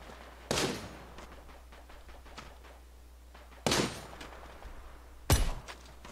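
Three sharp gunshots from the video game Knives Out, spaced apart, ring out over a low steady background hum, each with a brief tail; snowy map.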